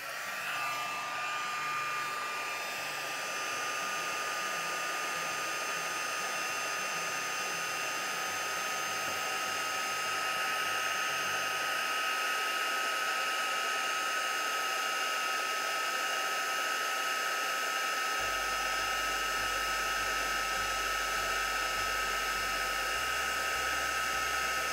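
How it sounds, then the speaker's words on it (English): A heat gun blows a steady, even whoosh of hot air with a faint whine, running continuously and close by throughout, with no speech. "get our heat gun happening."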